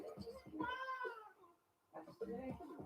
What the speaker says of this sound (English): I got a cat somewhere here.